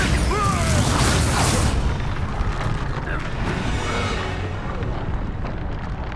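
A Bombarda spell blast in the video game Hogwarts Legacy erupts as a loud, close boom that rolls into a rumbling crash of debris and fades out over several seconds.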